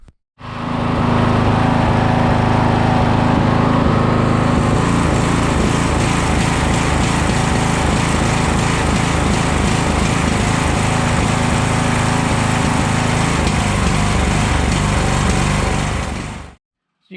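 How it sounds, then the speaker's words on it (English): A Briggs engine on a broken lawn tractor runs loud and close, holding a steady, fast idle for about fifteen seconds before cutting out abruptly. "The engine's still running a bit too high."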